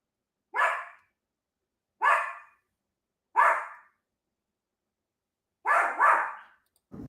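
A dog barks five times in close, loud, separate bursts spaced a second or more apart, with the last two barks coming in a quick double; no talking over it.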